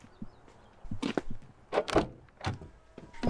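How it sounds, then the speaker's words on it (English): Door of a Mercedes-Benz A220 being opened and shut, giving a few solid thuds and latch clunks at close range, with softer rustling handling noise in between. "so the door feels a little bit more substantial than it does on the Cadillac."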